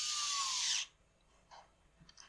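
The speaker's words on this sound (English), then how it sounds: "This is another case where if you're going to use a driver, be careful or set it on a low clutch setting." A cordless power driver runs screws into the intake of a Husqvarna 562XP chainsaw, a single loud whirring burst of just under a second with a rising pitch, then quiet shop background with a few faint clicks.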